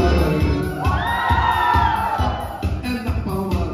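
Crowd of adults and children shouting, whooping and cheering together at an outdoor family gathering on a country farm, a loud sustained roar with rising yells and rhythmic pulses of clapping or stomping underneath.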